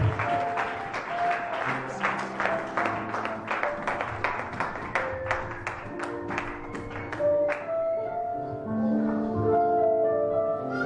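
A church congregation claps steadily and rhythmically throughout, the dense hand-claps ringing over music and sung tones that carry on beneath them.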